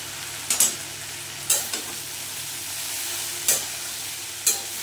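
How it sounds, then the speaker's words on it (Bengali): Vegetables for a pui shak (Malabar spinach) chachchari are sautéed in a pan under a constant hiss, with four distinct stirring scrapes spaced through it. "এবার সবজির সঙ্গে ভালো করে কষে তারপরে এটাতে জল দেবো।"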